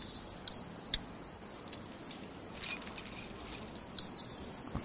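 Keys jingling and clinking in The Walking Dead game, a quiet metallic rattle with a few sharp chinks and a brief busier flurry in the middle, heard alone.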